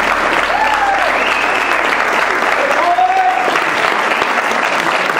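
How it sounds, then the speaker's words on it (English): Wedding guests applaud the bride and groom at a reception, a steady, dense wash of clapping from a nearby crowd that lasts throughout, with scattered cheers and whistles rising over it. "please put your hands together for the bride and groom, Mike and Dorothy"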